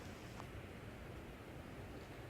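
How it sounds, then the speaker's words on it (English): A steady, broad rush of wind fills the air, continuous and even, as windy gusts sweep through trees on a beach. "I think it's the noise of the wind going through the trees on the beach"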